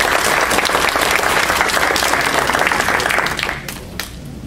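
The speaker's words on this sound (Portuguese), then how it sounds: "Uma salva de palmas para o Cláudio" Audience at a ufology academy talk applauding the speaker Cláudio, dense sustained clapping from a crowd that fades out near the end.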